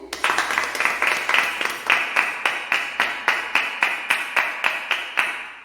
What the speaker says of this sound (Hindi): तो आइए हम जोरदार तालियों से प्रभु यीशु को धन्यवाद करते हैं